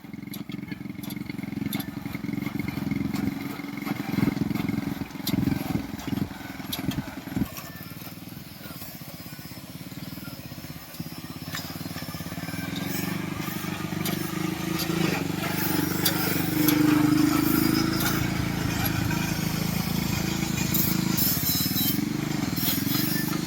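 A sanedo mini tractor powered by a 100cc Honda CD100 motorcycle engine runs with a steady, rattling engine drone and clatter outdoors, the rumble swelling later, with occasional voices nearby.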